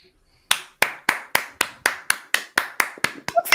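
Close, crisp handclaps start after a moment of silence and keep a steady rhythm of about a dozen claps. They quicken slightly and blur together at the end, and no one talks over them.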